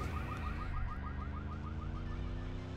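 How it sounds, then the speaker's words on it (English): A car alarm goes off in the NASCAR Rumble racing video game, cycling through a rapid repeating whooping tone, loud and continuous over a low engine drone. "I just heard a car alarm go off in game"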